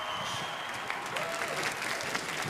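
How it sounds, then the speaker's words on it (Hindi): An audience at a Filmfare awards show applauds for Karan Johar, a steady, dense patter of clapping that swells slightly toward the end. "प्लीज जोरदार ताली में सब करण जौहर के लिए।"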